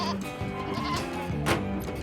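Goats bleat inside an Outback livestock truck trailer, several overlapping wavering cries close by, with a sharp scrape or clatter partway through.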